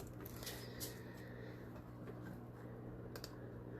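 Quiet, quick tapping of keys on a computer keyboard as a password is entered, a rapid irregular clatter heard close up in a calm room.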